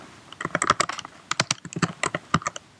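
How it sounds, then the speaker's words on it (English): Someone types a command on a computer keyboard in a quick, uneven burst of close, crisp key clicks with brief pauses between groups of keystrokes. "So to do that, we'll just type in Jupyter"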